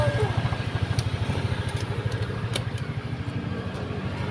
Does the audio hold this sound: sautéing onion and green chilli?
no